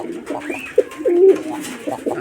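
Giribaz pigeons from Rajshahi coo in low, throaty bursts, a few soft rolling calls close by, with a faint voice in the background.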